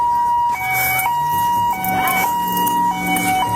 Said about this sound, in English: Is he turning off his siren?